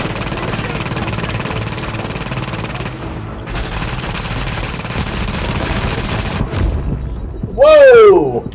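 Rapid automatic gunfire crackles in a dense, continuous stream in the shooter game Tom Clancy's The Division, with a whining sweep near the end and a voice talking over the action.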